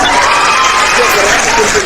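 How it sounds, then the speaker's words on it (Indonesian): Audience applause mixed with crowd cheering and shouts, a loud continuous roar of clapping and voices filling the whole stretch. "Tepuk tangan."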